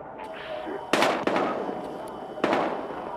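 Gunfire in the video game Battlefield Hardline, with two sharp, loud bursts of shots standing out over a busy game soundscape and background voices.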